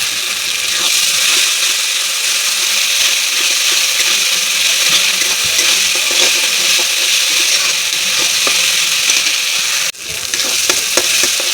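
Ginger paste hits a pan of melted onion and tomato for a soybean and egg gravy, giving a loud, steady sizzle and frying hiss with occasional stirring scrapes and a brief dip near the end.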